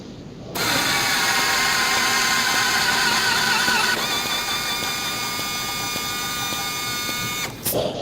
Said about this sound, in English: once you articulate the FlexArm over the part, you can go ahead and thread